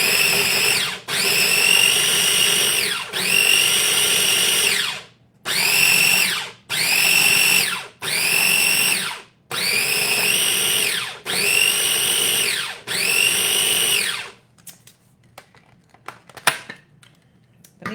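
An electric blender grinds chocolate avocado mousse ingredients in a kitchen, running in eight loud whirring bursts of about one to two seconds each, separated by short pauses, then stopping and leaving quiet clinks.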